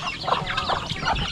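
Farm poultry, turkeys and ducks, clucking and gabbling close by in a short burst of overlapping calls, fairly loud, with no talk.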